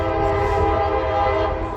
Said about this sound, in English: You're going to hear the train coming here in just a second.